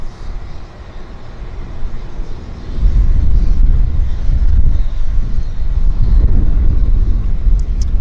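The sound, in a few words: Air North Boeing 737-800 airliner at Vancouver Airport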